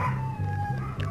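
Dogs in the mobile survival game Last Craft Survival bark in four evenly spaced, sustained howling bursts over a low steady game tone, fairly loud and close, with no talking.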